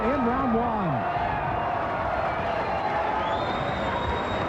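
A boxing crowd at an IBF world light-heavyweight title fight roars and cheers at the bell ending the first round. The sustained dense wash of voices fills the whole stretch, with a few higher whistle-like tones rising above it.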